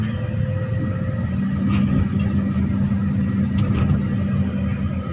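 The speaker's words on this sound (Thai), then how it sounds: "มาดูครับสิบล้อเยอะแยะเลยครับ" Ten-wheel trucks idling and rumbling at a dirt pit in Korat, a continuous low engine drone with a steady mid-range hum, fairly loud and close, with no talk over it.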